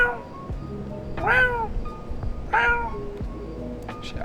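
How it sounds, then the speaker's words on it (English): A cat meows twice, loud and close, with rising drawn-out cries about a second apart over low background noise. "There's a cat."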